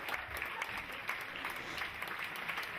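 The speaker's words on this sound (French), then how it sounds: "les gens restaient froids et ont à peine applaudi" A small audience applauds weakly, a thin patter of scattered claps that stays at an even, modest level for a few seconds.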